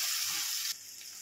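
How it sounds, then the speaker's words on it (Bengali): Chopped onion fries lightly in a pan with a steady close sizzle that drops slightly in level partway through, with no talking. "দেখুন পেঁয়াজটা হালকা করে ভাজা হয়ে গেছে।"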